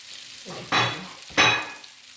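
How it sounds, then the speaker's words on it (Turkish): Green lentil patties (köfte) frying in a pan give off a close, steady sizzle that swells twice into louder bursts of crackling spatter as they are stirred or turned. "bu kızartmışı kızarttım bitti"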